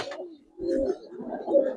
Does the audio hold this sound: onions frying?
no